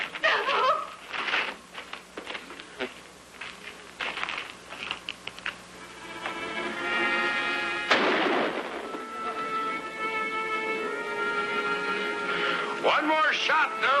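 Gunshots ring out in a western film scene, with sharp reports scattered among voices and dramatic music, plus one louder blast partway through.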